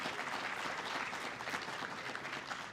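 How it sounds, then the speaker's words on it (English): An audience at a trading card game keynote presentation claps steadily, a dense continuous patter of many hands at an even level throughout. "and round of applause."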